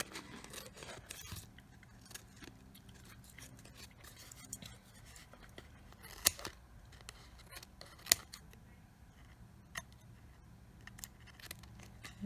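Small, skinny scissors with sharp tips snip paper for a mixed-media seahorse craft, giving quiet, irregular cutting and scraping sounds with a few sharper clicks, close but faint.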